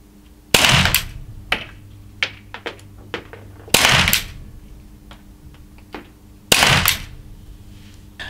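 Three sharp training-pistol shots from a T4E Glock 17 Gen5 .43 calibre at a 9-metre precision test, evenly spaced about three seconds apart, loud and close, with mechanical clicks and small knocks between them.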